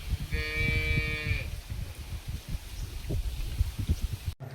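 A bullock tied in a yard beside a house gives one long, loud moo near the start, followed by scattered outdoor knocks and rustling with no talking.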